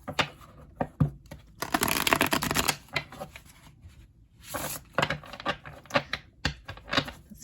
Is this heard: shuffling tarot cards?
yes